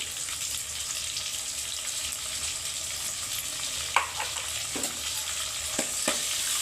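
A paste of ginger, coriander, garlic and mint fries in a pan for vegetable rice, giving a quiet, steady sizzle broken by a few sharp stirring clinks near the end.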